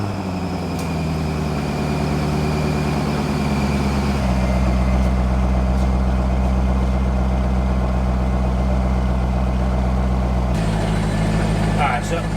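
A Chevrolet C5 Corvette engine runs at a steady, loud idle close by, with a deep droning rumble that shifts in pitch a couple of times as the revs settle. Faint talk can be heard under it.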